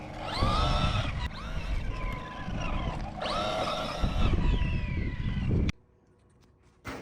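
An RC short course truck with a Hobbywing XR8 SCT ESC and 3660 3600kV motor runs on soft-pack dirt, its electric whine rising and falling in repeated bursts before cutting out into near silence.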